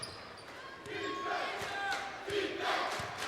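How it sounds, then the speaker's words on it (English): A high school basketball crowd of Hershey High Trojan fans chants a rhythmic defense cheer in a gym, the massed voices rising and falling across the clip amid ambient arena noise. "The defense chant is from the Hershey High Trojan crowd."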